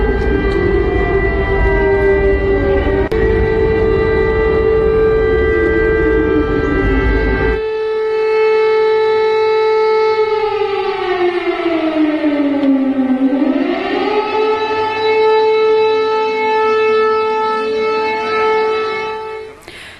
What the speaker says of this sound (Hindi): लीव में सायरन से चेतावनी जारी की गई है।